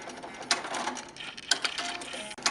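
HAPPY embroidery machines stitching the final appliqué details, a steady mechanical whirring with sharp clicks at regular intervals, close and continuous with no talking.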